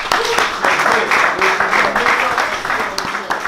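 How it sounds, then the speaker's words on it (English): An audience claps briefly at a live gathering, a loose patter of hands heard under a man's continuing speech, which stays loud and on top throughout. "It's clap for him."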